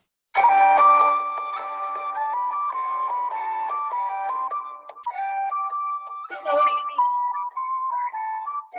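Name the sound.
recorded Irish jig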